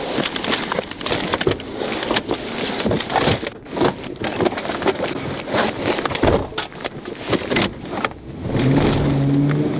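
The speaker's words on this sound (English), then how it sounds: "the driver glanced at the passenger, grabbed the gear shift, and sped off, initiating a pursuit" A car speeding off at the start of a police pursuit, a loud continuous rush of engine and road noise with heavy wind buffeting and occasional thumps, close to the microphone.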